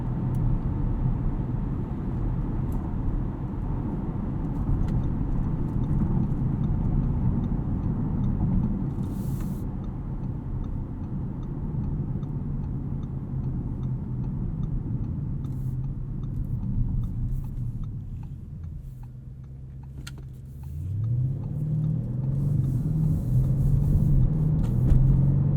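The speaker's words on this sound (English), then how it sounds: "there's your POV night drive of the Audi" Steady engine drone and tyre roar from a 2021 Audi RS6 Avant wagon on a night drive, a continuous low rumble that dips near the 20-second mark, then swells again as the revs climb, with no talking.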